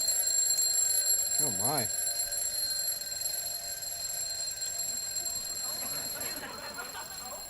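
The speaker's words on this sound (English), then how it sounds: "Your alarm's going?" An alarm clock rings with a continuous high-pitched electronic tone in a British sitcom scene, steady throughout while a voice briefly exclaims over it.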